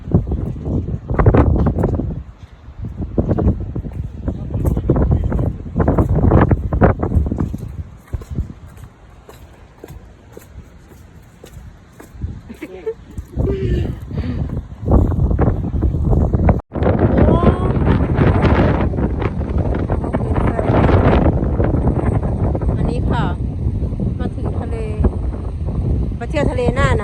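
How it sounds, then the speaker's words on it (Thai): Strong wind after rain at a German seaside rumbles and gusts against the microphone throughout, loud and close, with people talking over it. "แต่ตอนนี้ฝนหยุดแล้วแต่ก็คือลมมาก"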